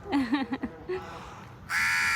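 Crows caw several times in quick succession in a small island park in the Maldives, loud and fairly close, followed by a steady broadband whoosh near the end.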